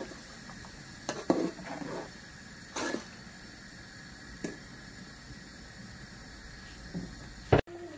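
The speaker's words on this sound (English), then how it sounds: "I've got all the ginger, garlic, pepper, tomato, everything inside. So I'm just gonna wait for it to fry." A Nigerian stew base of ginger, garlic, pepper and tomato fries in a pot with a low, steady hiss, broken now and then by faint clinks and soft knocks.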